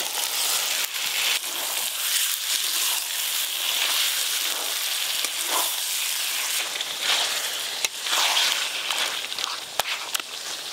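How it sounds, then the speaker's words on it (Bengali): Spice-marinated meat hissing and sizzling steadily in a hot pan of fried onion, ginger and garlic, a loud continuous frying crackle with no talk. "এবার মশলা মাখানা মাংসটা দিয়ে দেবো।"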